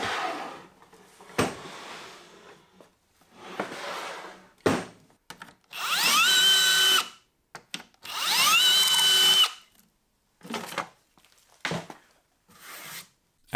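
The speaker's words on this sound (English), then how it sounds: "now I can drill out for some shelf pin holes" A power drill bores shelf pin holes into a wooden cabinet panel in several short, loud bursts, each with a rising whine, separated by quiet pauses and small handling knocks.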